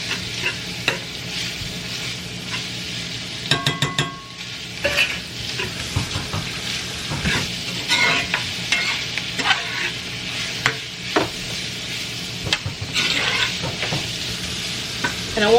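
Onions frying in a pan, with a steady sizzle broken by repeated scraping and stirring of a utensil against the pan, close and fairly loud throughout.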